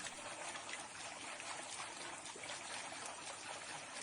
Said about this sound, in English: Is this just water noise?